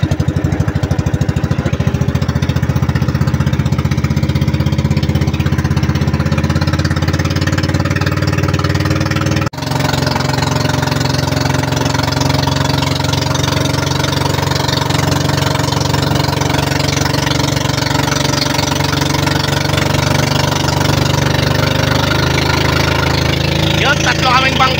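A steady, loud engine drones on a small boat during island hopping at Tingloy, Batangas, a continuous mid-pitched hum for the whole stretch with a brief dip partway, while faint voices are barely present beneath it.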